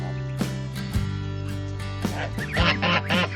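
Five young geese honk close by in a shared coop with chickens and ducks. Loud, nasal honks come in irregular bursts, some overlapping, with rustling and faint barnyard noise between calls.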